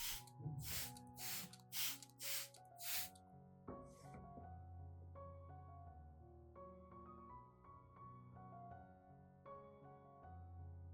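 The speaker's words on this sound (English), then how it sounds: "Then lightly and evenly spray the entire orchid plant, including leaves, stems, roots, and leaf axils." A spray bottle misting liquid over an orchid plant gives six quick, sharp hissing bursts in a row, followed by a seventh fainter one, with soft background music continuing underneath.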